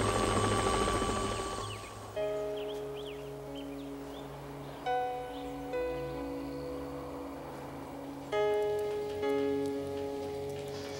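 A helicopter flies nearby with a steady loud engine and rotor drone, layered with tonal hums and pulsing swells throughout.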